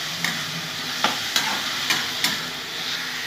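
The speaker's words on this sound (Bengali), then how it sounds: "পেঁয়াজটা দিয়ে ভালো করে কষিয়ে নেব" Onions frying and sizzling in a pan as they are stirred for a mutton dish, a steady bright hiss with a few soft scraping knocks from the spoon, close and continuous.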